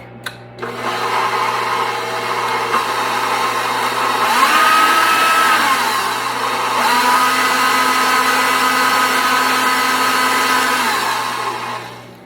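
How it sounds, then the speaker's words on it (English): An electric stand mixer whirs steadily as it blends egg and other dinner roll dough ingredients, a loud, close motor drone lasting about twelve seconds with slight shifts in pitch and no talking. "now I'm going to turn the mixer on and just mix that real quick"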